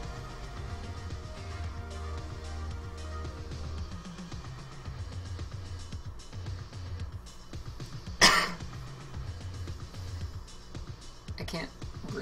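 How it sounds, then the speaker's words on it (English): A single sharp cough rings out loud and close, standing out from a steady low background hum, with a fainter throat-clearing sound following moments later. "Cough."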